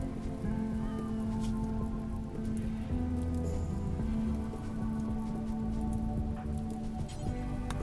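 Steady patter of rain in the video game Rimworld falls continuously, mixed with a low sustained tone and faint background game sounds.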